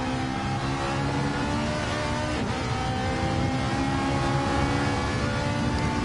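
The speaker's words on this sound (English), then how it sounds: "Car's really unstable going around this left-hander." A race car engine in a PS4 racing video game holds a loud, steady high-revving drone with slight pitch shifts as the car takes a fast left-hand corner, with no other sounds.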